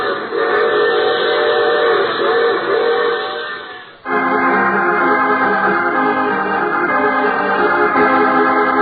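A train rumbles along with a loud, sustained whistle in a radio drama, the whistle and rail noise filling the whole stretch, dipping once and then resuming at full strength.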